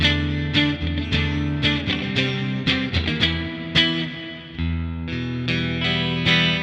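A Fender Player Plus Stratocaster electric guitar on its middle pickup plays a quick phrase of about a dozen picked notes and chords, bright with a touch of effects coloring, close and with no other sound.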